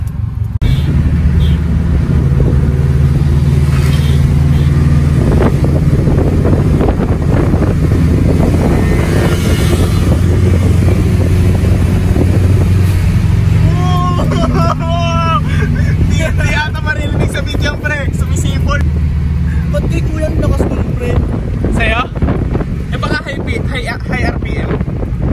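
A Subaru Impreza WRX turbo engine revving at high RPM, a steady loud drone with rising and falling pitch, heavy wind buffeting, people talking throughout.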